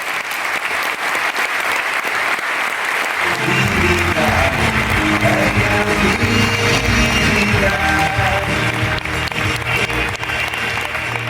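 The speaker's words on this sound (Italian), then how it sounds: "bell'applauso." Sustained applause from an audience at a networking day event in San Patrignano, loud and dense throughout; partway in, music with a steady low beat starts up beneath the clapping.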